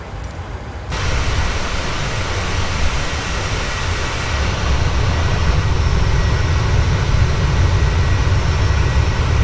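Steady, loud roar of Boeing 737-800 jet engines heard from inside the cabin, a constant broadband rumble throughout with no speech.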